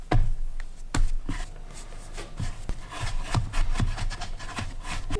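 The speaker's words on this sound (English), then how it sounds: "dump our dough onto our cutting board. We're going to form this into a tight ball." Dough being worked into a tight ball on a floured wooden cutting board, with repeated soft thumps and rubbing, scraping strokes in a steady rhythm, close and moderately loud, no talking.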